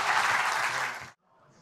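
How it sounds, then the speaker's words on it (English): Brisk applause from a defence conference audience thanking an expert panel, a dense burst of clapping that cuts off abruptly to near silence with faint room sound after. "A big round of applause."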